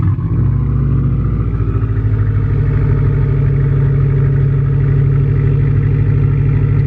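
Car engine with a loud custom-fabricated exhaust, a deep, steady, throbbing rumble close by that fills the whole stretch after a brief start at the beginning, running without talk.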